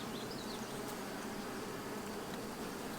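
A dense, continuous hum of many honey bees buzzing together, steady and fairly faint, with no voices.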